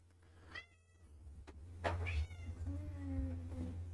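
A house cat meows several times nearby, drawn-out and slightly plaintive calls over a steady low hum, with a soft tap in between.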